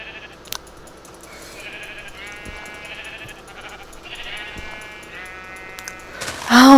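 Sheep in the Minecraft Terrafirmacraft mod bleating repeatedly while being attacked, several wavering bleats spread across the clip over faint game noise, ending in a louder burst.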